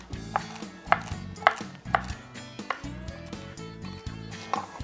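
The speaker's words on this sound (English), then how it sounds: "I'm gonna cut up a little bit of celery to put in there" A knife chops celery into small dice on a cutting board for Mediterranean salmon cakes. The chops are sharp and distinct, coming in an irregular, unhurried rhythm over a steady, low tonal backdrop.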